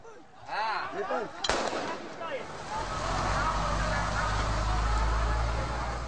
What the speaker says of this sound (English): harmless explosions from the military to try and scare the crowd away